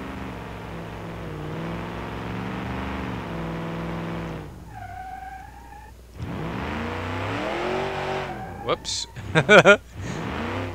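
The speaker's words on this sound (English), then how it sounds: "Too much torque and there's nothing in the back of the bed, so the wheels just come unglued." Tires of an empty-bed pickup truck in a video game spin and squeal from too much torque, a rising whine and sharp screeching bursts near the end, with someone talking over much of it.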